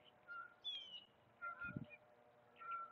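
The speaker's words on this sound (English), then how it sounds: "Bird chirping up there." Outdoor bird calls chirp intermittently at a moderate distance, several short tonal notes spaced across a quiet background with a brief low thud in the middle.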